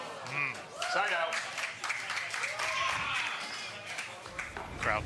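Crowd applause at a mixed doubles pickleball championship court in Newport Beach, a moderate burst of clapping mixed with talk and cheering.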